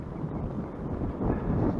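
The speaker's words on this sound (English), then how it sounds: "And it's a little bit breezy too." Breezy wind buffets the microphone during a bicycle ride through snow on a cloudy day, a brief, fairly soft, continuous low rushing roar with no talk.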